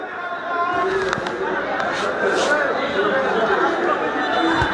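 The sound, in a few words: football stadium crowd of supporters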